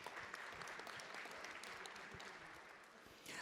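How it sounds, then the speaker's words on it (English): Audience applause at a panel session on freedom of expression, steady broadband clapping from a sizable crowd, fairly faint and distant, holding evenly for a few seconds with a brief swell at the end. "Let's give her a round of applause."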